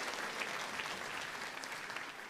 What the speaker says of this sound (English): Give yourself a round of applause, surely.